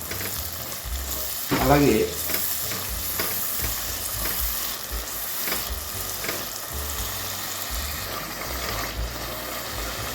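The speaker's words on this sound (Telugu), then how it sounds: "ఇప్పుడు ఇందులో టమాటా ప్యూరీ ఏదైతే ఉందో అది కూడా వేసేస్తున్నాను" Tomato puree sizzles and spatters in a pan as it is stirred, with close scraping strokes over a steady frying hiss and a brief spoken word.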